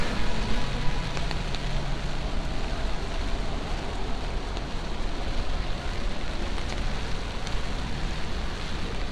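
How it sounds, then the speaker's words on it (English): Heavy rain pours down on a New York City street, a dense, steady hiss across the full nine seconds with no break, drumming close and loud as if onto an umbrella. "Rain is really coming down."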